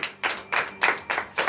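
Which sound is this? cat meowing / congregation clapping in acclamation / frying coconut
congregation clapping in acclamation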